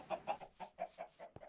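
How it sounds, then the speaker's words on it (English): Chickens in the Minecraft video game cluck in a quick, even series of short clipped calls, fairly faint, with a brief click near the end. "And we just put chickens in there."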